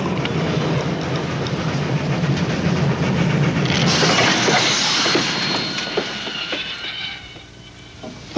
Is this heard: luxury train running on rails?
yes